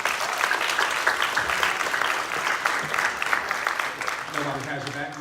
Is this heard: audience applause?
yes